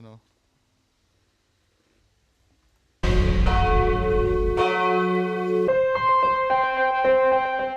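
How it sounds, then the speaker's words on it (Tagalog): After a brief sound and a few seconds of silence, a church bell rings loudly with rich, lingering overtones, struck several times in succession. "kung ano naman kinalaman nila sa pagpapatunog ng kampana na yun"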